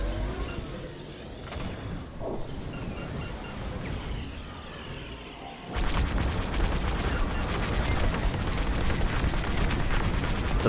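A TIE bomber is shot down in the Star Wars: Squadrons space-combat video game, with a steady roar of blaster fire and explosions that surges suddenly louder about halfway through and stays dense and booming.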